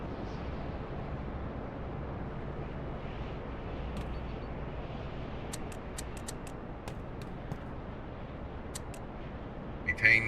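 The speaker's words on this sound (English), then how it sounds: "I'm just gonna launch an airstrike." Airstrike explosions in the naval combat game Carrier Command: a steady, heavy rumbling roar with faint clicks on top and a short louder burst at the very end, no voices.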